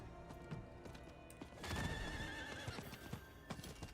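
Horse in a video game neighing and whinnying with clip-clopping hooves at a gallop, loud and close, the hoofbeats growing busier midway with game ambience underneath.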